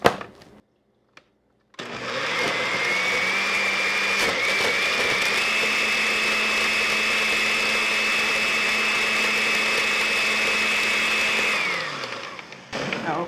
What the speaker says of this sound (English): this is going to go onto my blender